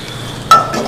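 A spatula scrapes and clinks against a frying pan holding garlic ginger paste, one sharp metallic tap followed by a brief scrape, close and fairly loud.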